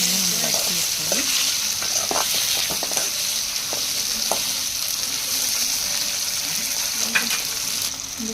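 Manathakkali (black nightshade) leaves frying in hot oil give a continuous, close sizzle with occasional stirring scrapes and small pops throughout.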